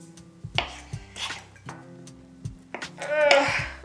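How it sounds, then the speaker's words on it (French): A knife cuts slices from a small wheel of cheese on a board, giving several soft, irregular thuds and scrapes. Quiet clinks of utensils sound close by. "on va prendre la petite meule de fromage et on va couper des"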